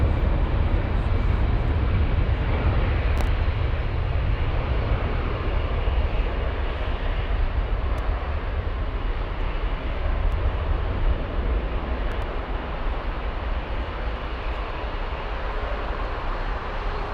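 Lufthansa airliner pushing back at Frankfurt Airport makes a steady, continuous low engine rumble and roar with a constant broadband hiss throughout.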